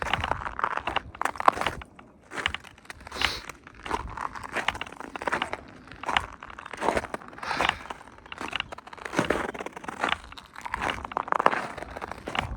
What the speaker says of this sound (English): If you guys like ASMR of crunching snow, you're gonna get it in this video.